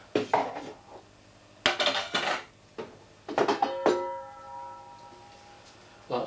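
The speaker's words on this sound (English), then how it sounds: "Put these in a frying pan." A metal frying pan is handled in a home kitchen while making beer-battered fish and chips: several sharp clanks and scrapes arrive in short bursts, close and loud, with a ringing metallic tail after one knock and no voices.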